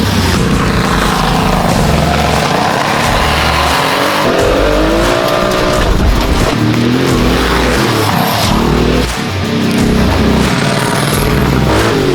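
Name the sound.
Porsche 959 Paris Dakar being driven on snow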